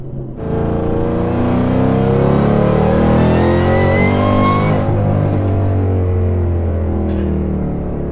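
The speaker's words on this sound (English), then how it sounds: "I could just downshift all day." A 2014 Shelby GT500 sits close by, its deep, loud engine holding a strong, steady growl throughout as it downshifts and revs, with the pitch shifting midway before settling back.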